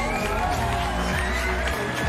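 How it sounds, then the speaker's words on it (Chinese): Studio audience at a Chinese dating show seeing off the paired guests: a dense, steady wash of crowd cheering and applause filling the whole moment, fairly loud and close. "掌声欢送"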